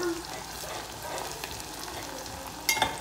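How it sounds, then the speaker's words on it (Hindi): Sliced onions fry and brown in a pan for an aloo keema dish, a steady soft sizzle close by with a brief clink of a utensil near the end, no talking. "प्याज हमारी ब्राउन हो रही है, रेडी हो गई है"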